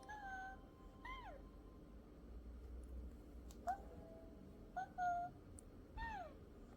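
Peekapets Peek A Boo interactive bunny toy emits short electronic chirps and giggle-like squeaks with rising and falling pitch, several bursts spaced a second or so apart, fairly close and moderately loud over a low background hum.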